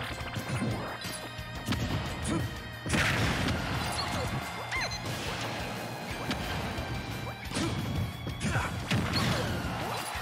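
Super Smash Bros 64 match, Snake against Jigglypuff, with dense game hits and smashes over a crowd's din, several sharp impacts standing out among constant busy action noise.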